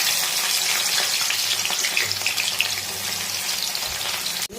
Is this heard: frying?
yes